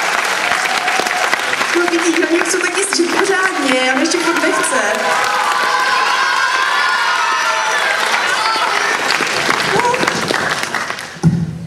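A school or church event audience claps, cheers and shouts encouragement to a shy child about to recite a poem, with sustained loud applause and crowd noise under talk from people on stage.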